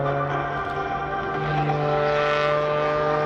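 Sean Tucker's stunt plane flies a very tight inside loop at an airshow, its propeller engine droning in a steady tone that swells and shifts pitch as it pulls through the manoeuvre, heard at moderate distance.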